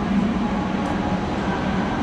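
Interior of a high-speed train at a station in the Netherlands, a steady broadband rumble and hiss filling the space without a break, with no talk.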